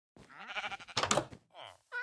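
A sheep in Minecraft bleats in short, wavering calls, close and clear, with a final brief bleat after a pause.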